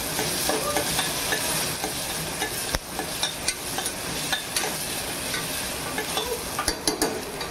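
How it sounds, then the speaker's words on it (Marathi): A spoon stirs spicy masala khichadi frying in a pan with garlic-ginger paste, steady sizzling beneath repeated scraping and clinking strokes at close range, no talk. "त्याला हलवत राहायचं, नाहीतर ते लागून जातं मग खाली"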